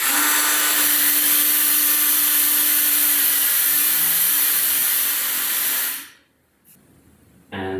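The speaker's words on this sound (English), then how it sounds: "Before we put up the whole drivetrain, I'm going to polish this used cassette." A used bicycle cassette being polished with a power tool, a loud, steady high whine that runs for about six seconds, then stops abruptly before a brief restart.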